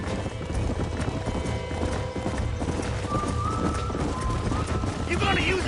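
Horses gallop in the Western video game Red Dead Redemption, with dense, rapid hoofbeats close by and a whinny partway through, layered with voices and other game sounds.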